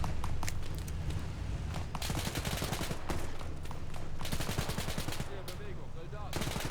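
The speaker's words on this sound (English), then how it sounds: "let's call in some mortars there" Mortar impacts and sustained gunfire from a World War II battle in the video game Arma 3 Spearhead 1944, with dense, loud bursts of automatic fire and booming blasts continuing throughout.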